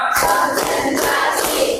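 A group of teachers at a classroom training session claps a counted clap pattern on command, with loud rhythmic bursts close by and shouting mixed in throughout.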